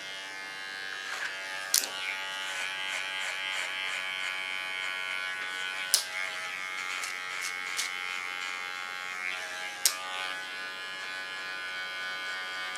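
An electric hair clipper cuts hair during an asymmetric salon haircut, a steady close buzz running throughout, broken by a few sharp clicks.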